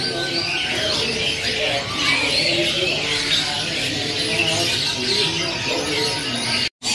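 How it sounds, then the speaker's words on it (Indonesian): An Asian pied starling (jalak suren) sings among a crowd of other caged birds at a market, its chirps and whistles overlapping with steady tweeting, cooing and squawks, with a person's voice also heard. "Lanjut nih jalak suren gacoran"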